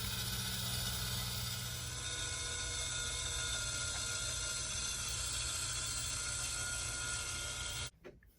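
A tumbler turner rotates an epoxy-coated tumbler, giving a faint, steady mechanical whir and hum that holds constant for about eight seconds and then stops abruptly near the end.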